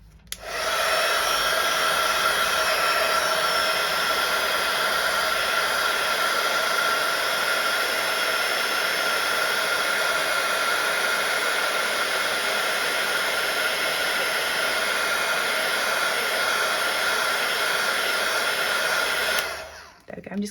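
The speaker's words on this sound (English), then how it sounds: "Right, I'm going to use my heat gun, so if you've got me on loud, just turn me down slightly" A heat gun used for embossing on a stamped card blows steadily for about twenty seconds, a loud, even whooshing hiss with a faint whine, cutting off abruptly at the end.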